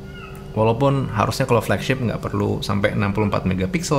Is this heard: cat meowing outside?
yes